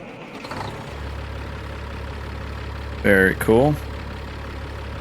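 Idling 3406 EU2WS diesel truck engine in American Truck Simulator, a steady low rumble running throughout, with someone speaking briefly over it partway through.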